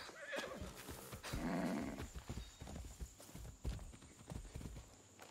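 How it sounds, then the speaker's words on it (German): Wild horses in the video game Far Cry 6 neigh and whinny close by, with clopping hooves and scattered thuds around the calls. "Also sind wilde Pferde."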